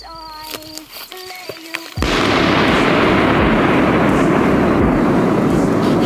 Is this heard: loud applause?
no